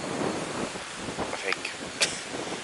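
Outdoor wind buffets the microphone in a low, rumbling gust that rises and falls over a few seconds, with a couple of brief sharper bumps; no speech is heard.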